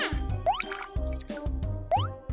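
Cartoon water drips as river water is collected: two bright, rising plinking drops land about a second and a half apart over a bouncy musical backing.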